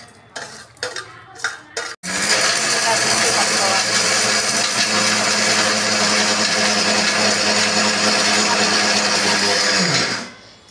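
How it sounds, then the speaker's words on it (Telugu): After a few clattering knocks, a kitchen mixer grinder roars steadily for about eight seconds as it coarsely grinds spiced chutney powder with shallots and salt, then winds down. "ఇలా అన్నీ వేసుకొని మిక్సీ పట్టుకొని కొద్దిగా బరకగా వేసుకోవాలి."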